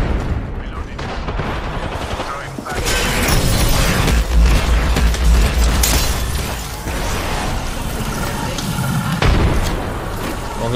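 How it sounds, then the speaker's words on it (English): A frag grenade explosion in the video game Apex Legends bursts loud and close amid continuous gunfire and other battle effects, with a heavy deep boom near the middle. "Frag out!"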